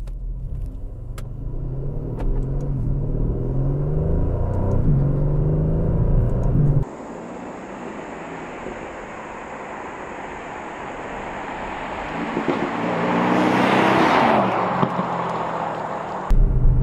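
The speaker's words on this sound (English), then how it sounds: "Gonna do a quick acceleration here and get a good feel of what this car is capable of." A 2020 Aston Martin DB11 Volante V8 revs and builds under acceleration, a deep rumble rising then a loud surge near the end, heard from inside the car.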